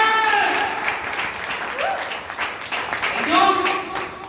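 Audience applause at a Hindi-speaking gathering, a steady wash of clapping across the whole stretch with voices and tonal sounds mixed in beneath it.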